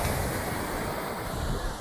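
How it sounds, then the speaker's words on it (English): Big waves of the Arabian Sea in Goa roar as a dense, continuous surf wash, loud and constant with a touch of wind across the microphone and no talk. "now I'm looking at these big waves from the Arabian Sea"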